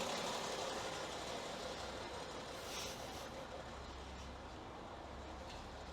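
BMW X5 six-cylinder engine idling roughly with a misfire and white smoke, a steady low rumble with uneven shaking throughout, recorded up close.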